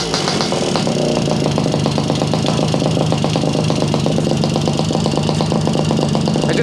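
A Garelli SSXL moped engine runs on a workbench with the choke set, making a rapid, even putter that holds steady and close throughout. No one speaks.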